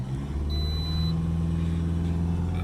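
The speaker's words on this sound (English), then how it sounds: "Let's just hold the revs up myself." A Toyota RAV4 2.2 D4D diesel engine held at steady raised revs, with a continuous low, even drone close by and no talking over it.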